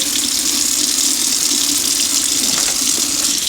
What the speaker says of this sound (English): so we're just going to rinse this off